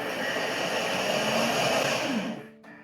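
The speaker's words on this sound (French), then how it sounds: "je vais mixer à vitesse 7-8 pendant 20 secondes pour vraiment que ce soit pulvérisé" A Thermomix blends peaches at speed 7-8, a loud steady high-pitched motor whir that runs close and unbroken for over two seconds, then winds down with a falling pitch and cuts out.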